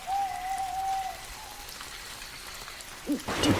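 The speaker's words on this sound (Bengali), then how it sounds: "বৃষ্টির গতি হঠাৎই বেড়ে গেল।" Heavy rain pours in a cartoon night scene as a constant soft hiss, with a hooting, owl-like call early on and a louder rush of noise near the end.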